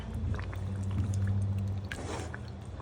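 Canned olives pour into a Hawaiian pastele pork stew with a soft, wet splashing and sloshing over a low steady hum, a couple of seconds of continuous liquid pouring with no talk.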